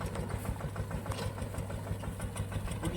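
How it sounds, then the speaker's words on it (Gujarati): A mini tractor engine chugs steadily with an even, knocking rhythm while harrowing a groundnut field, fairly faint and unaccompanied by voices. "ટ્રેક્ટર આવ્યો છે વખોડ આપવાનો મગફળીમાં"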